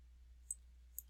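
A computer mouse gives two faint, crisp right-clicks about half a second apart during Revit drafting on a computer, with a low steady hum underneath.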